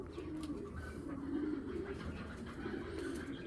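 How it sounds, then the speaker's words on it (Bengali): A female racing pigeon coos softly, low rolling warbles rising and falling in a couple of phrases, close by and fairly quiet over a faint background hum. "ভাই এটা মাদি কবুতর"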